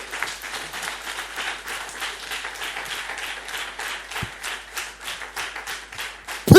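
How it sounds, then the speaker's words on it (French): A church congregation at a revival service claps in a brisk, steady rhythm, many hands together filling the room at an even level, with a loud burst at the very end. "Acclame très fort le Seigneur Jésus"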